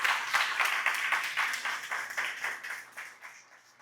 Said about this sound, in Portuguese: dá uma grande salva de palmas para a palavra de Deus